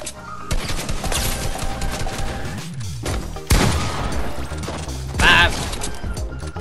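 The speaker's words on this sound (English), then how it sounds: "This guy be really shooting me in the back like that." Rapid bursts of gunfire and impacts from the video game Fortnite, loud and close, with game music and effects layered over the shots.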